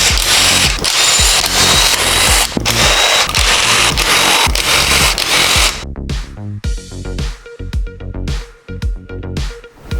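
Screws being backed out of the engine cover on an Italika Z-200 motorcycle: a rapid ratcheting tool clicks in steady loud bursts, then gives way to scattered metallic clinks and small part handling near the mic.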